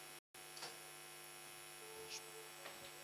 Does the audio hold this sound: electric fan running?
yes